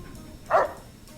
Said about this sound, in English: Hey, little doggy.